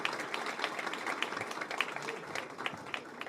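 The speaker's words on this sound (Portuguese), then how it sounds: "uma salva de palmas." Scattered, fairly quiet applause from a small audience thanking the moderator at an esports panel debate, with individual claps distinct in an uneven rhythm and faint voices underneath.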